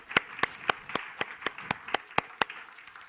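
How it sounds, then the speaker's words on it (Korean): A small church congregation claps in slow, steady unison, about a dozen distinct crisp claps evenly spaced and fairly close, fading at the end. "이 박수"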